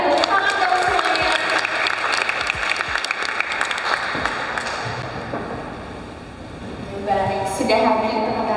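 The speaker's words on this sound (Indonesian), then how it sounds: "Tepuk tangan dong semuanya." A talk show audience of students in a hall applauds steadily, a dense wash of clapping that fades a little midway and then swells again near the end, with voices mixed into the crowd noise.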